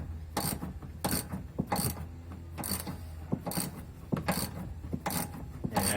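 A ratchet wrench cranks a sway bar end link lock nut on a 2009 Dodge Ram 2500, clicking in short rhythmic bursts about ten times, close and crisp, with small metallic rubs between strokes and no talk.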